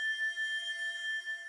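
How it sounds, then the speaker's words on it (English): A glass clinking sample with a very long reverb tail of about ten seconds and light downsampling, heard as a steady ringing shimmer of sustained high tones that hangs on alone without any clear onset. "This next sound is the sound of a glass clinking"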